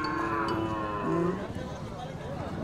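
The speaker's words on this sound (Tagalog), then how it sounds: "Ito na yung mga kalabaw." Several low, drawn-out moos from water buffalo at a livestock stockyard, fairly close, overlapping with a busy outdoor background.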